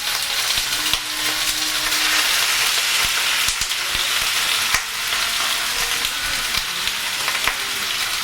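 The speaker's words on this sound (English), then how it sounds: "We're just going to brown it and sear it to keep the flavors in." Turtle meat, including meaty neck portions, searing and browning in a pan crackles with a loud, dense, continuous sizzle and a few faint clicks on top, with no voices.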